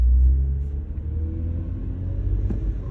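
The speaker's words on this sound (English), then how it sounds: "Alright, so here we go. We're about to go on a drive." A Toyota Camry rolls along the road, its steady low rumble of engine and tire noise filling the cabin, heavy at the start and then evening out into a continuous drone.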